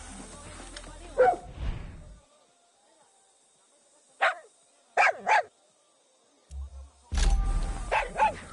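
A dog barks several times in short bursts in the video game Far Cry, with quiet pauses between the sharp, close barks.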